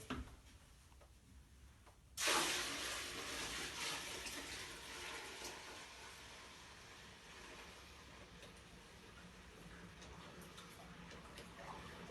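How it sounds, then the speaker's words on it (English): A septic treatment mixture poured into a toilet bowl: a steady, close splashing pour starts abruptly and continues evenly for about ten seconds, then slowly tapers, with faint room hum underneath. "you simply take it and pour it into the commode."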